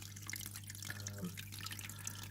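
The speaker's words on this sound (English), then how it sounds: "a small waterfall that runs down, providing a stream." A small waterfall running down into a stream inside a mixed species tank, giving a steady, faint trickle and patter of falling water with scattered drips, continuous under a low electrical hum.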